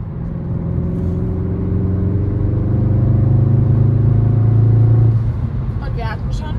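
A family car being driven on a road, heard from inside as a steady low engine and road drone. The hum holds evenly, then fades near the end while people talk.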